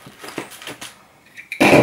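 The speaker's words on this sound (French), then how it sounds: "pardon pour le bruit, j'ai pris des papiers" Soft rustling and crinkling of paper in a few short bursts, ending in a louder close crackle as the sheets are handled.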